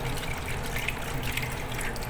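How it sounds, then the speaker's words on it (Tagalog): Tap water runs steadily from a sink faucet at home, a continuous soft splashing stream with no pauses and no voices. "Yung lababo, itapat mo lang kamot mo. Agas na."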